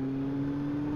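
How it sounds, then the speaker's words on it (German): A Kawasaki motorcycle fitted with a Mivv GP (Hashiru) exhaust idles steadily nearby, a low, even engine hum with a smooth tonal drone and no revving. "der Sound jetzt hier bei der Kawasaki mit dem Auspuff"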